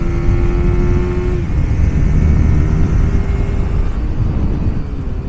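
Honda CBR150R motorcycle engine running under throttle during a test ride, a steady loud droning tone that shifts pitch partway through and carries on with a rough, continuous exhaust rumble.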